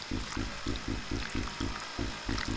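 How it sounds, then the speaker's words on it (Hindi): A drill machine in a jump-scare horror game whirs in short, rhythmic pulses, about four per second, over a hissing background for a few seconds. "Okay drill machine."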